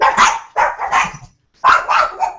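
A dog barks in three sharp, loud bursts, two close together and then a third after a short pause, heard up close with no talk over it.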